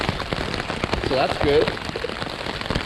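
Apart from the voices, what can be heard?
hail falling on plastic shelter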